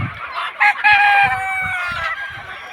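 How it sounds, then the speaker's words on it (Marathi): Free-range native chickens pecking at tomatoes on a poultry farm: a rooster crows once, close and loud, with soft clucking around it. "मस्तपैकी अशा खेळत आहेत कोंबड्या"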